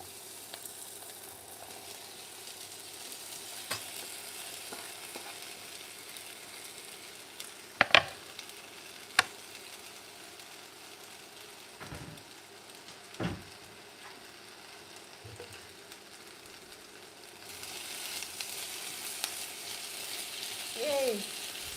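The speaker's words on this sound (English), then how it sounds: "I'm transferring my potatoes to my hot pan." Potatoes hitting a hot pan sizzle steadily, with a few sharp knocks and scrapes from stirring, and the frying grows louder toward the end.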